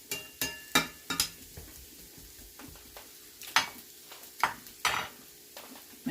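Ratatouille vegetables cook in a pan and are stirred, giving a series of sharp utensil scrapes and clacks about every half second to second over a faint low sizzle, close and fairly quiet, with no talking.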